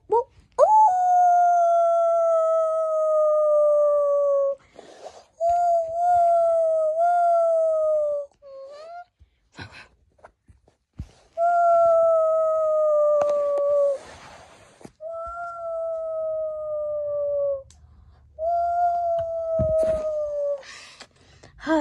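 Wolves in a Minecraft-style video game howl in a series of long, sustained, slightly falling howls, about five of them separated by short pauses, loud and close with faint background noise between.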